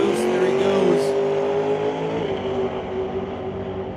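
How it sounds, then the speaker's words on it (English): A turbocharged Outlaw 275 drag race car at Mission Raceway Park spools up, then launches. Its engine tone holds steady, then drops away as it pulls off, loud at first and fading. A commentator talks over it. "Spooling up the turbo, building a little boost. There he goes."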